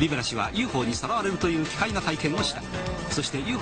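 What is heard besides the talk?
None of the usual background noises is heard.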